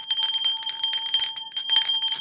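A small hand bell rung repeatedly by a sports show host, a bright metallic ringing in quick jangling bursts, close and alone with no talking.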